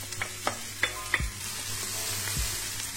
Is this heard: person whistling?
no